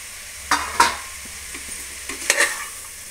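Fresh coriander and mint leaves frying in a pan for a quick vegetable pulao, with a soft, steady sizzle under several distinct scraping stirs of a spoon.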